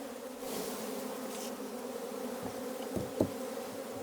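Honeybees buzz continuously around the listener, a dense steady hum with a few louder bees passing close by.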